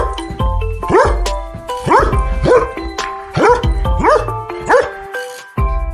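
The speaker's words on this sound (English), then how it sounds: "The dog barks." A dog barks about six times in a steady rhythm, loud and close, over a soft musical backing.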